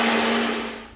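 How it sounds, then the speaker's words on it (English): A kitchen blender whirs loudly as it churns a clumpy homemade sauce, its steady motor hum slowly fading over about a second, with no voices. "I'm gonna put it in the blender because it's not impressing me"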